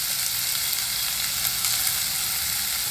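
Crushed ginger, green chili and chopped onion sauteing in a pan with cumin seeds, a steady close sizzle with a few faint stirring scrapes, no voices.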